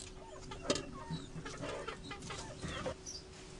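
Chickens raised by a displaced family at a relocation site in Sri Lanka cluck softly in short scattered calls, close by, against a faint outdoor background hum with no speech.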